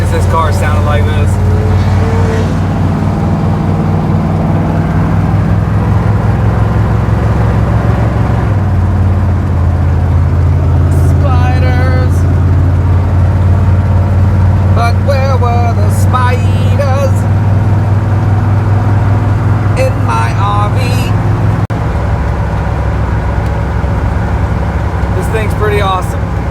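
A retro RV engine cruises at a steady 55 on the road, a loud continuous low hum and drone with road noise throughout, while people talk intermittently over it.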